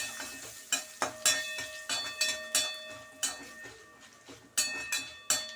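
Dried red chillies and asafoetida fry in hot oil, a soft sizzle under repeated sharp clinks of a spoon stirring against the pan.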